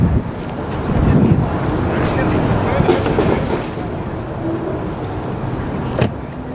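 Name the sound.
Porsche Taycan electric car driving laps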